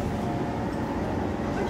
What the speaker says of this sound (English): you can hear the motor a little more because the end cars don't have motors